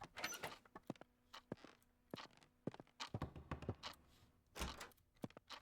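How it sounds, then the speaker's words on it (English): Ghostly poltergeist activity in the video game Ghost Exile: a burst of sharp thuds, knocks and clattering bangs, like doors slamming and objects being thrown around, scattered irregularly at moderate loudness with no talking. "we hear doors, we hear stuff being thrown around"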